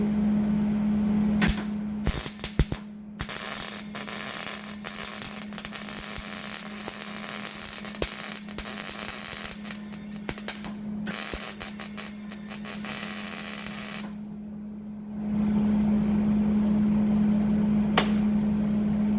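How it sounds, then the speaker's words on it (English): Arc welding a bead onto a test pipe installed on a Chevrolet Silverado 2500HD, a steady buzzing crackle with a strong electrical hum that runs continuously, broken by a few short pauses, close and fairly loud, with no talking. "Now we're gonna run a bead on that, and then this front will be good."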